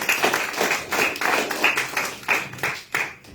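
A church congregation claps in a rhythmic, rather sparse pattern, distinct bursts about twice a second, moderately near, with a slight room echo.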